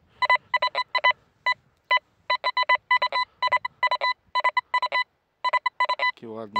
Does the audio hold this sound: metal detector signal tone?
yes